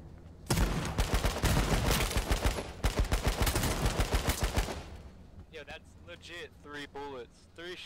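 Rapid bursts of automatic gunfire crackle in the H1Z1 battle royale game, loud and dense for several seconds before stopping, after which a voice speaks.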